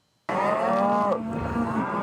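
Cattle give a single loud, drawn-out moo close by, starting abruptly and holding steady for nearly two seconds with no talk.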